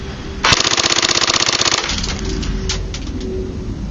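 An A&K M60 airsoft machine gun with a 9.6 volt battery and mosfet fires a fast, evenly rhythmic full-auto burst of about one and a half seconds, loud and close, followed by mechanical clicks and rustling.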